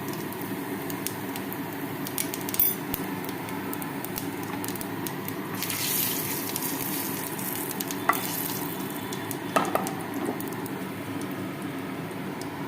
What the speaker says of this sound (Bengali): তেল গরম হয়ে গেছে। এবার এর মধ্যে জিরে ফোড়নটা দিয়ে দিলাম।